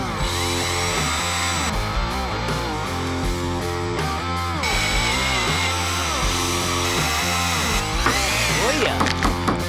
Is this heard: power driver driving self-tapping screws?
yes